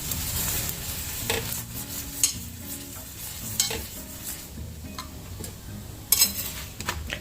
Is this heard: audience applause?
no